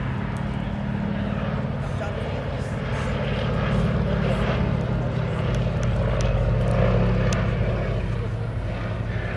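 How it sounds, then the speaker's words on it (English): A P-51 Mustang named 'Jersey Jerk' taxis at the Duxford airshow, its propeller engine giving a steady, loud, low rumble throughout, with broadband wind and crowd noise and an announcer's voice over it. "There's a beach P51 Jersey Jerk taxi back in"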